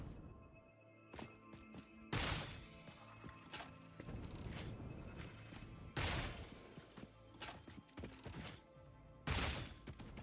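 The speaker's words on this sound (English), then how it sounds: "it's shotgun I have on right now. Okay. Shotgun should blast these guys." Shotgun blasts in the game Satisfactory, several loud sharp shots spaced a few seconds apart with clanks and mechanical rattles between them and no talk.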